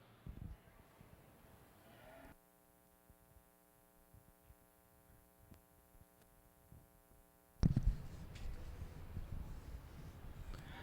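Heifers in a beef cattle show ring give a sustained, droning moo lasting several seconds over a faint electrical hum, followed by bursts of arena clatter and noise.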